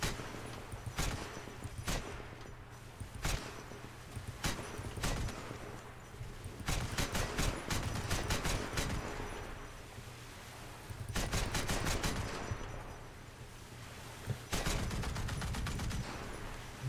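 Mounted .50 cal machine guns firing from a boat during a War Thunder naval battle, coming through as faint, distant bursts of rapid shots that repeat several times with short quiet gaps between them.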